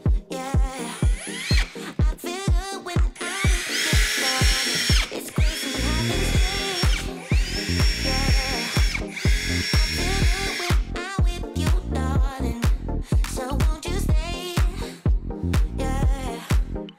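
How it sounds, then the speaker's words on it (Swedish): A power drill whirring in repeated bursts, stopping and restarting several times, close and loud with rhythmic mechanical pulsing. "Sen tänker jag borra några hål här"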